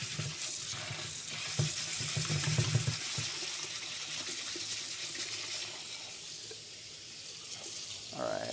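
Water runs steadily from a tap while something is rinsed, a continuous close splashing hiss with small fluctuations throughout.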